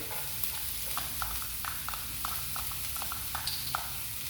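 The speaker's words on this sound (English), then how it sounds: "So I'm gonna cook the onions. Love the sound of it." Onions cooking in oil in a pot for sambal tumis udang give a steady, faint sizzle with a low crackle running alone and unbroken throughout.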